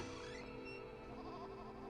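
A goat bleats in an anime episode, a wavering, sustained nasal cry layered over a dense background of music and room tone, with no talking.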